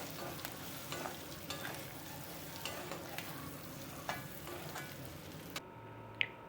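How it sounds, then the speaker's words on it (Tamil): Onion and capsicum sauté in a pan for chicken gravy: a dense, close sizzle with regular scraping strokes of a spatula. It stops abruptly near the end, leaving near silence and a small clink. "கட் பண்ணி வச்சுருக்கிற குடமிளகாயையும் அதோடு போட்டு நல்லா வதக்கிக்கலாம்."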